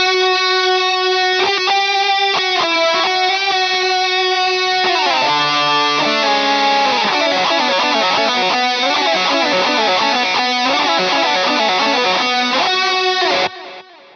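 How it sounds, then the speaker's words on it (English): Isolated, heavily EQ'd metal guitar solo in a melodic death metal style, loud and distorted with a thin, radio-like filtered tone, long sustained notes giving way to fast picked runs before cutting off abruptly near the end. "So let me just play you the isolated solo."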